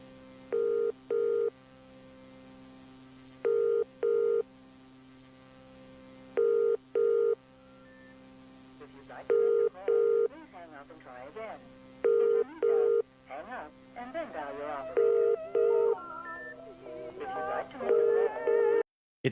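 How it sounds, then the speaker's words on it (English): Repeated bursts of touch-tone dialing beeps and telephone tones, followed by warbling recorded phone audio and garbled voices, all faint behind a low hum. "You can hear all of that going on in the background behind the static and behind the dial tone."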